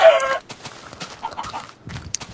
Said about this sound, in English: I'm getting a bunch of chickens.